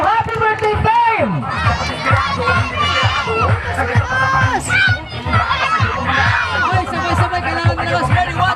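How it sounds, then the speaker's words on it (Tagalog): A crowd of children at a birthday party shouts and clap together in a loud, continuous burst of cheering and chatter, with an adult voice calling out over the noise. "Pumalakpak. Sigaw, happy birthday, Fame!"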